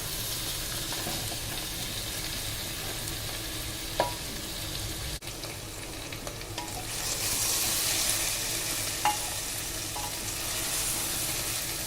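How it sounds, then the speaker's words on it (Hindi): Jackfruit and onion fry in a pan with a continuous soft sizzle. Occasional stirring clicks and scrapes of a spoon against the pan cut in, and the sizzle swells louder toward the latter part. No one speaks. "कटहल और प्याज को थोड़ी देर भूनेंगे।"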